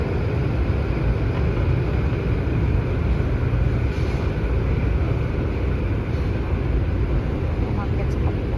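A steady low rumble and hiss of an MRT metro train running on rails, loud and continuous, with a faint high whine above it.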